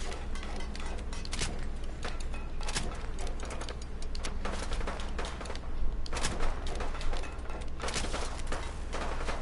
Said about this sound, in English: You hear all those gunshots? That's right around the corner.